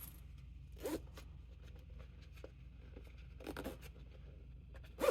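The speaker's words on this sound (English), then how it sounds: "zip your zipper just to make sure it's going to close" A zipper is closed on a sewn crossbody bag with a gusset add-on: a few short rasping zips separated by pauses, close up and fairly quiet, with no one talking.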